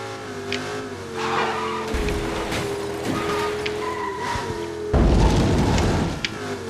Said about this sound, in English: Drifting feels fairly fun still, but a bit weird compared to previous games.